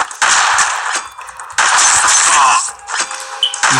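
Rapid automatic gunfire from a video game fires in loud bursts aimed at the player, with two sustained volleys separated by brief pauses and a short trailing burst.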